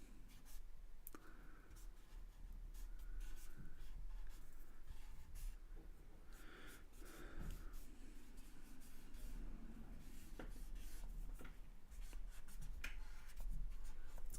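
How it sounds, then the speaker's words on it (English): A pencil scratches quick, repeated strokes across paper on a drawing, making faint, close, dry scribbling and rubbing sounds that continue throughout. "putting a new layer of like scratchy marks on top of the smooth"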